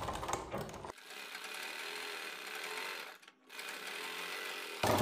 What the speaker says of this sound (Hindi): तो ये हमने अपनी किनारी की सिलाई लगा दी है।